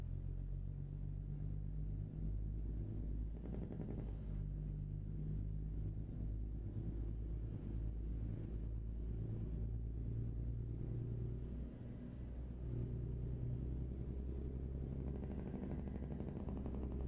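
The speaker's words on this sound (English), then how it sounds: "I do like the sound of this truck." Scania truck engine in the Euro Truck Simulator game, a steady low diesel rumble droning continuously throughout with slight rises in revs, no voices.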